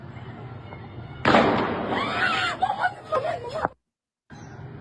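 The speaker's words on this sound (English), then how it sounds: "then you hear a gunshot, and you hear him fall" Gunfire is heard in a recorded street protest in Iran as a sudden sharp crack, then a noisy burst of shouting and agitated voices that cuts out abruptly. The crowd resumes after a short gap.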